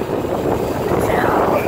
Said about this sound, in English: oh my god, the plane is right there.